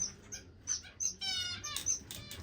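Owl finches in an indoor bird room give a quick series of bright, high chirps and tweets, close by and with no voices.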